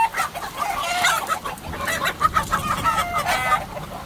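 Chickens clucking and chirping close by, including a young gamecock chick, a run of short, busy calls with a soft farmyard murmur underneath.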